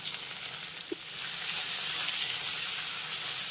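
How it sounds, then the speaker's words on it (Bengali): Pieces of bitter gourd hit hot oil with turmeric and salt, a soft tap followed by a bright, steady sizzle that swells and holds, close and continuous with no talk. "এবার আমি এই গরম তেলের মধ্যে অ্যাড করব কেটে ধুয়ে রাখা করলাগুলো"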